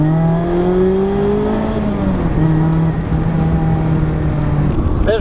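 A supercharged Mazda Miata ND drives a mountain road, its engine a steady, loud drone that holds pitch, dips briefly as it shifts, then settles again near the listener.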